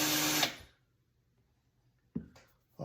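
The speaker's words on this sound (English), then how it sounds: "Then you're going to take your chamfer tool, right, and just do that." Chamfer tool deburring the mouth of a trimmed brass cartridge case, heard as a loud half-second of rasping metal scraping followed by silence, then two short scraping strokes near the end.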